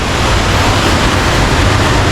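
Loud, steady rushing water of the Barit River at an irrigation dam in Iriga roaring continuously, a dense broadband torrent close by with no voices.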